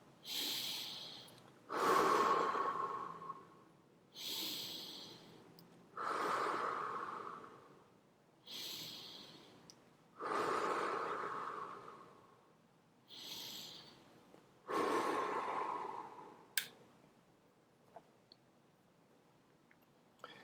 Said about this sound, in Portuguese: Respirando pelo nariz, respirando pela boca, ou da forma que vocês estão acostumados.